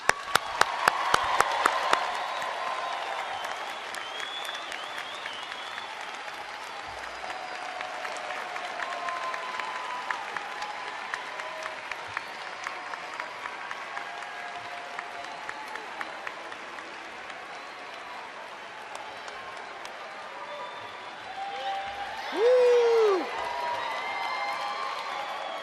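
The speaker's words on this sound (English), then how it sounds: "Let's give a round of applause to the graduates." Commencement audience applauding and cheering for graduates at the Clark School spring ceremony, a broad sustained wash of many hands clapping with a few louder early claps, tapering slightly, then a brief swell of cheering near the end.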